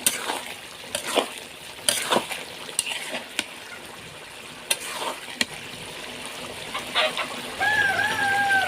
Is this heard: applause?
no